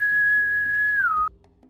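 A person whistles a single sustained note that holds steady, then slides downward and cuts off abruptly, heard clearly and alone.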